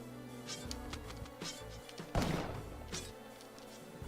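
Bees buzz around a hive in the video game Spelunky, a thin, steady insect drone with a louder swell partway through, heard alone without talk.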